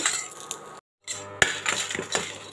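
Ingredients for an oil-rich brinjal curry are sautéed in oil in a pan, with clinks of a spoon or spatula against the pan and a soft sizzle broken by a short silent gap.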